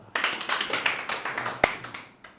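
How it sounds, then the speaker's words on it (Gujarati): An audience at a Gujarati spiritual discourse gathering claps in a brisk, steady rhythm of many hands, with one sharp louder clap standing out near the end. "તાળીઓ."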